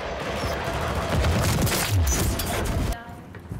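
Sniper rifle fire in the Call of Duty: Modern Warfare 3 PC beta, a dense burst of loud in-game gunfire and impacts that cuts off abruptly, leaving quieter game ambience.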